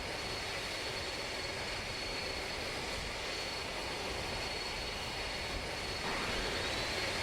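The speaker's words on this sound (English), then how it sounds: "Don't floor the engines when you're trying to start them." Aircraft engines in the Immersive Vehicles game start up into a steady, droning roar that holds unbroken and fairly loud throughout, growing slightly fuller near the end.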